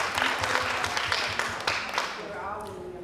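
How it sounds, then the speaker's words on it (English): Steady applause from a large audience, dense and continuous throughout, fading slightly toward the end with a faint voice underneath. "Let's give them a round of applause."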